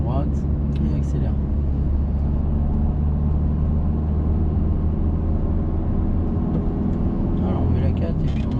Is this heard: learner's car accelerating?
yes